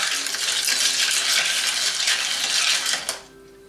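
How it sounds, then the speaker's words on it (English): Spiced rum cocktail being stirred in a glass, a steady close scraping and swishing that runs for about three seconds, then stops abruptly, with no voices. "And you stir this up."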